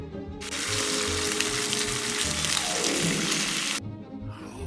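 Beef sizzling on a barbecue, a loud steady hiss of frying that runs for several seconds and then cuts off abruptly.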